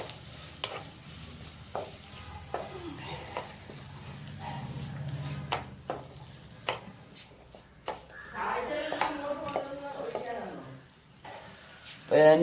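Mustard seeds and onions fry in a pan with soft crackles and scattered sharp pops and utensil taps, and a louder burst of sizzling comes near the end.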